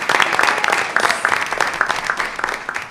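An audience at a school board of education meeting breaks into brisk, loud applause, with individual claps standing out close by in a lively, uneven rhythm that continues throughout.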